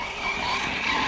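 An Arrma Notorious 6s RC car skids its tires in one loud, continuous scrubbing hiss lasting about a second, close by with no talking.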